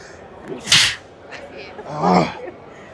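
A single sharp sneeze bursts out near the mic, followed a moment later by a short spoken exclamation.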